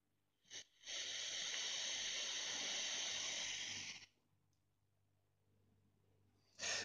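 An e-cigarette kit with its airflow fully open gives one long, steady, airy hiss of a close inhale lasting about three seconds, then quiet, with a brief click at each end.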